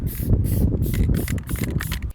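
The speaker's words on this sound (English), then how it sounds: "Every time Jon Hancock pushes on the knob of his spray can, he doesn't just release paint." Spray paint can hissing in several loud close bursts, each a sharp airy spray separated by brief pauses, with no talk.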